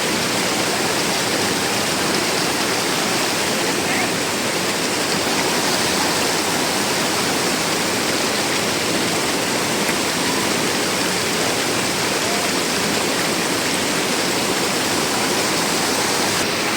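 Mount Banahaw spring water flowing into a swimming pool at a resort, a loud, constant rushing and splashing roar of falling water that stays steady with no voices.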